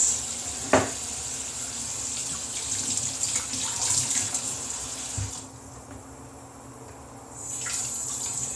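Vegetables such as celery rinsed under a running kitchen tap while a bolognese is prepared: a steady, close hiss of flowing water that dips briefly quieter partway through before running fully again, with no talking.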